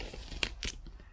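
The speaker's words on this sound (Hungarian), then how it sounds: "kincstári ollóval ezt megnyitom." Scissors cutting open the packaging box of a Beelink EQi12 mini PC, two quick sharp snips close by in a quiet room.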